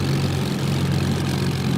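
Simulated Supermarine Spitfire Mk Ia engine idling in Microsoft Flight Simulator, a steady low droning rumble with a strong hum, continuous and fairly loud, with no speech.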